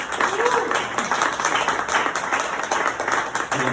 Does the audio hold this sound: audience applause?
yes